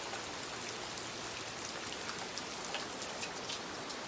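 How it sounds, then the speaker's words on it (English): Heavy rain pours down steadily at a trail shelter near High Point Trailhead, a dense, close, even hiss of drops drumming on surfaces with no voices. "It's raining cats and dogs."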